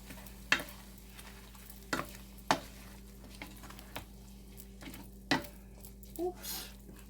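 Ground turkey seasoned with a packet of sazon sizzles softly as it browns in a pan, with occasional sharp scrapes and clacks from stirring breaking through the steady low fry.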